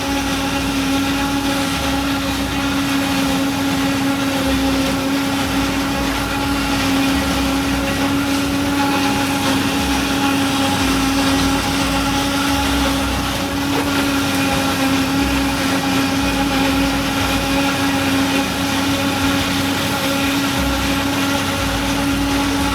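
An Arjun tractor engine runs under load with a loud, continuous, steady drone and a constant humming pitch throughout.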